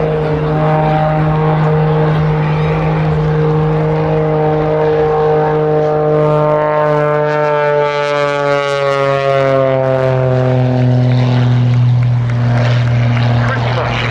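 A propeller aircraft flies a low-level knife edge at an airshow, its engine drone sweeping down in pitch as it passes close by, loud and continuous, with voices underneath.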